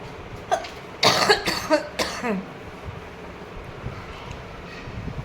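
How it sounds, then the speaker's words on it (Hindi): A person coughs several times in quick succession nearby, a harsh burst of hacking that fades into quiet background hiss. "खांसी बहुत आ रही।"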